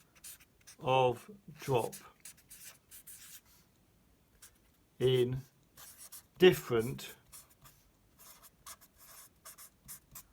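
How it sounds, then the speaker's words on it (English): A whiteboard marker scratches across paper in short, quiet strokes, interleaved with a person talking nearby. "You have to excuse my pen and the writing. The board pens aren't designed to write on paper."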